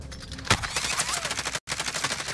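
Automatic gunfire in the video game Call of Duty Modern Warfare Warzone, a dense rapid burst of shots heard up close and continuing steadily with a brief cut in the middle.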